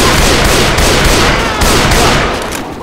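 Loud, dense bursts of gunfire in a Left 4 Dead-style zombie shooter campaign, rapid overlapping shots and booms running almost continuously with no pauses.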